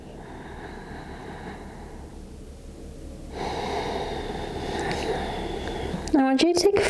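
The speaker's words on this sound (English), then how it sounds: "I want you to take 5 breaths in the center child's pose" Slow, deep breathing held in child's pose during a gentle yoga class, long soft inhales and exhales heard close, with a voice speaking over them near the end.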